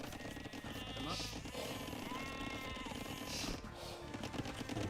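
Sheep bleating in the real-time strategy game Age of Empires II, a few soft, brief bleats rising over a steady bed of game ambience and clatter.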